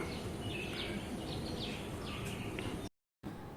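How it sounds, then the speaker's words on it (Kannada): Birds chirp in short, scattered calls over a steady hiss of background noise, with a brief silent gap near the end. "ಹಕ್ಕಿಗಳ ಚಿಲಿಪಿಲಿ ಎಲ್ಲ ಕೇಳ್ತಾ ಉಂಟು"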